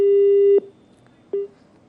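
Telephone busy tone after a call is cut off, a loud steady electronic beep followed by a second short beep after a pause, with no talking.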